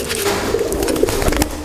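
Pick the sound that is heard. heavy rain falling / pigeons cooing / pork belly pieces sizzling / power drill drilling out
pigeons cooing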